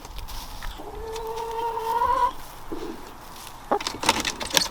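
Backyard chickens clucking over grubs being fed to them, a sustained nasal call followed by a few short, soft clucks and scratchy bursts nearby, no talking.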